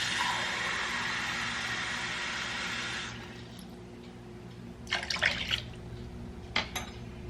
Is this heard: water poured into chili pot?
yes